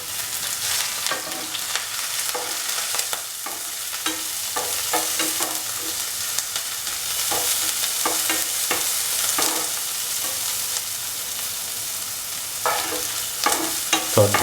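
Onions sizzle steadily in a pan, salted and browning, with repeated scraping strokes of a stirring utensil across the metal; close and continuous throughout, no voices.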